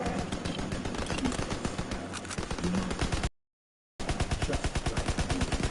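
Steady rapid gunfire at a shooting range in Red Dead Online, rhythmic evenly spaced shots repeating loudly and close, with a brief silent gap before the firing resumes.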